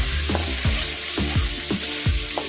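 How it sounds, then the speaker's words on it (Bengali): Prawns frying in a pan for a Bengali pui shak charchori, a loud continuous sizzle close by, broken by regular scraping stirs roughly every half second, with no talking. "চিংড়ি মাছটা হালকা করে ভেজে নেব।"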